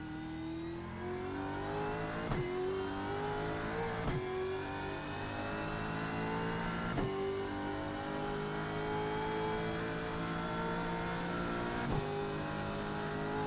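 A Camaro Gen3 Supercar V8 screams around Mount Panorama in a racing sim. The engine note climbs steadily and breaks with quick upshifts about every two to five seconds, loud and continuous with no talking.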